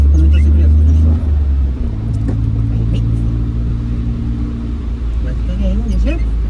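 A car engine drones loudly in second gear while the vehicle crosses a railway crossing, a steady low rumble with a brief dip in pitch, and someone talks over it throughout.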